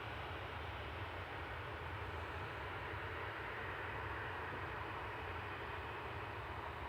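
A Boeing 737-800 departs Manchester Airport as a faint, distant, steady jet roar that stays even throughout, with no talk.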